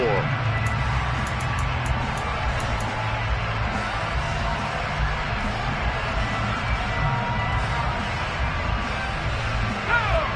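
Stadium crowd at a college football game early in the fourth quarter, a steady dense roar of voices and scattered cheers and whoops rising and falling throughout, with no single loud peak.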